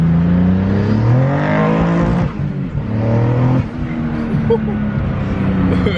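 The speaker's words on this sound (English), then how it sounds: "when you do these pulls, man, it pulls so smooth though" A twin-turbo Nissan 370Z running on E85 roars through a dyno pull. The engine note climbs steadily, cuts off sharply and then surges again, loud and close throughout.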